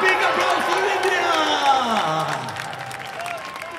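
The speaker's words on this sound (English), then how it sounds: "Big applause for India." A live crowd at Al Wasl Plaza, Expo 2020 Dubai, applauds and cheers loudly for India during a rock concert, with voices mixed into the dense clapping, which fades slightly toward the end.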